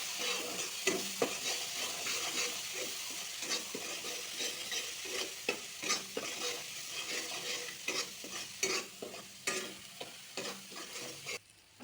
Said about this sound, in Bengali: এটা ভালো করে কষায় নিন।